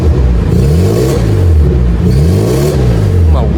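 A loud 2-liter 4-cylinder car engine revs up and down close by, its tone rising and falling in repeated sweeps over a deep rumble.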